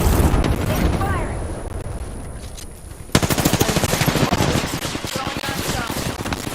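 Automatic gunfire in the shooter game Apex Legends, rapid loud bursts of shots that erupt abruptly midway and rattle on steadily, following a quieter stretch of muffled game sounds.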